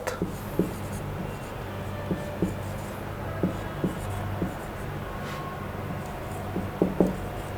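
Chalk or marker writes an example sentence on a classroom board, soft scratchy strokes in short irregular bursts over a quiet room hum, no speech.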